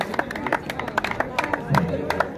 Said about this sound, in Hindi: आप लोग जोरदार ताली में स्वागत करें